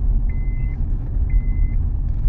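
A 15-year-old Honda Accord cruises in fifth gear at about 30 km/h, with a steady low engine and road rumble from inside the car and two brief high beeps over it.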